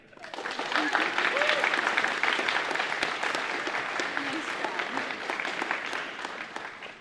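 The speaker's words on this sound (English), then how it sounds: "round of applause, everyone" A crowd applauds after first place is announced at an open saber fencing tournament, steady dense clapping that swells quickly and holds loud with voices mixed in underneath.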